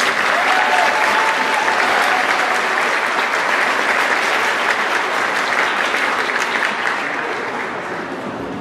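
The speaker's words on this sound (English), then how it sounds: "Can we please give these people a round of applause?" A crowd at a high school prom breaks into sustained applause, steady and dense across the room, fading slightly toward the end.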